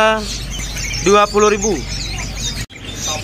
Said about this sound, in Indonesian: Di depan kita ini ada burung kutilang lokal.